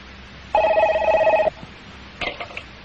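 A telephone rings once in a loud, close electronic trill lasting about a second, followed by a short faint clatter and then quiet room noise.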